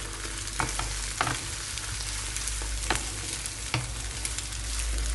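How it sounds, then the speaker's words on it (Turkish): Eggplant mixture with black pepper and salt sizzles steadily in a frying pan, with a few sharp scrapes and clinks of a spoon as it is stirred, constant and close. "Tekrar karıştırıyorum."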